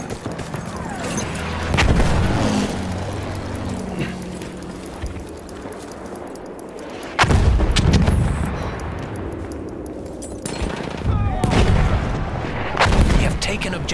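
Battle-game gunfire and artillery from a 1897 trench gun match on a ballroom map, with loud bursts and booming blasts at intervals over constant dense combat noise, and voices calling out in the mix.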